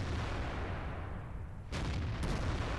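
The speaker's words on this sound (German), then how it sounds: "Man kann nur hinzielen und dann hoffen, dass die Granate auch landet." Artillery shell fired from a GW E100 self-propelled gun in World of Tanks, a deep boom with a loud sharp report midway through a steady rumbling battle background.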